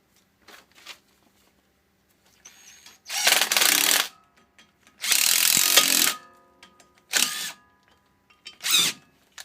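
Ratchet working loose the 17mm brake bolts on a 2002–2008 Toyota Corolla front brake, heard as several separate bursts of rapid clicking with short pauses and small metallic handling noises in between.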